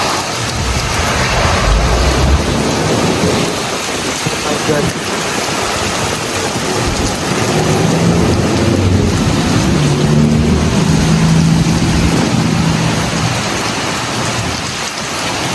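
Heavy typhoon rain pounds down steadily and loudly in a dense, continuous roar, with gusting wind and a brief exclaiming voice partway through.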